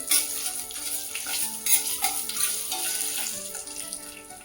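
Two dry red chillies sautéing in hot oil in a pan while a spinach and carrot chutney is made, giving a steady close crackling sizzle that runs continuously throughout, with faint tonal sound in the background.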